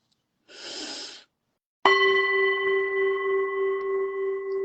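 In a guided breathing class, a single soft breath is pushed out through the mouth. After a short pause, a bell or singing bowl strikes and rings on with a long, steady tone.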